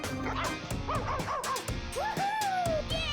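A dog yips and whines in quick repeated bursts, loud and close, with rising and falling squeaky tones in a playful game scene.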